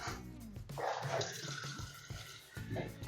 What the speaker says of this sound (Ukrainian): Заливати будемо кип'ятком